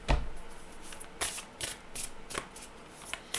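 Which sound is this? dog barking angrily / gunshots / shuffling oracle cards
shuffling oracle cards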